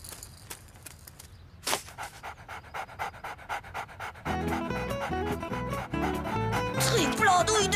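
A dog pants quickly and rhythmically close by, its breaths in regular bursts, before music and other sounds come in over it.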